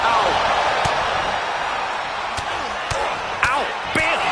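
Strikes, kicks and elbows landing in a wrestling video game, several sharp thuds spaced through the clip over a steady crowd roar, with one louder slam near the end.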